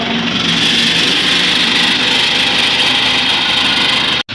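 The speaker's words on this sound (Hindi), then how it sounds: "हमारा ट्रैक्टर इतना इस छोटे से खाले में फंस चुका है" A tractor stuck in a small ditch runs steadily, its engine a loud, continuous, close-up drone with a bright harsh edge, briefly cut off near the end.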